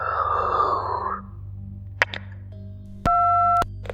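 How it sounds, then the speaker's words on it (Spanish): A low hum and whispery noise give way to a click, then a steady electronic telephone tone sounds briefly, followed by another click. "escuchó un susurro, un chasquido y a continuación el tono de marcar."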